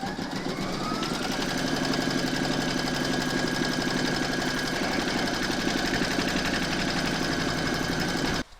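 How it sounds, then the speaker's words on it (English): An embroidery machine stitches a placement round on a hooped in-the-hole crazy patch evening bag, a steady close mechanical hum with rapid needle rhythm running continuously until it stops at the end. "Pop your hoop back into your machine and stitch round number 2 to secure it"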